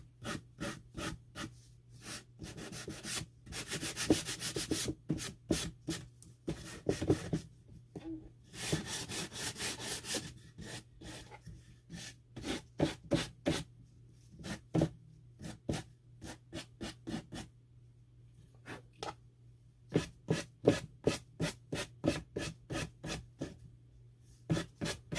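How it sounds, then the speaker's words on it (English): An old wooden bread box being sanded by hand with a dollar-store sanding block: rhythmic rasping strokes in repeated close bursts separated by short pauses, fairly loud and alone. "this is just a sand block that I got from one of the dollar stores here"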